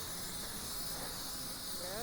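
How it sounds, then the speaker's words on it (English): A blow dryer blasts steadily on a corgi's fur as she lies on her back, giving a loud, continuous breathy hiss held close throughout. "I keep continuing to brush her and dry her, and I flip her over on her back so I can dry her tummy"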